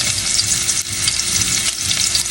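Onion and garlic sautéing in a pan for chopsuey, a steady close sizzle with faint scraping of stirring, broken by one brief dip partway through; no voices.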